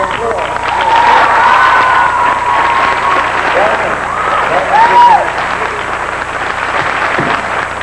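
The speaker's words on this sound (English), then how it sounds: "Let's give them a round of applause." An audience applauds in a hall, with steady, dense clapping mixed with crowd noise and a few faint voices underneath. The applause holds for several seconds.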